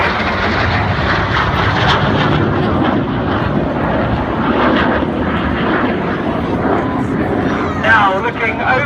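Red Arrows jets flying a display at the Clacton airshow give a loud, sustained roar that swells and fades, with a commentator talking over it.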